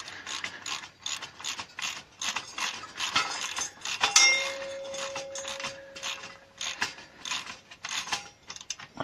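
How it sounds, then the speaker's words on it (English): Ratchet tightening 19mm bolts with washers on a garden cart axle: rapid close clicking bursts in repeated strokes, each run of ratchet clicks separated by brief pauses, loud and alone. "Tighten those down with a ratchet."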